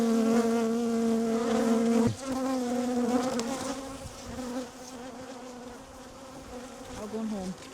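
Honeybees buzz steadily around an open beehive, a dense close swarm drone with shifting pitches as individual bees pass near, loud at first and then slightly softer.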